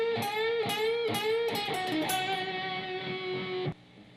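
Electric guitar plays part 6 of a solo at full speed, a quick run of picked notes and bends that rings out and then stops abruptly, close and clear with no voices.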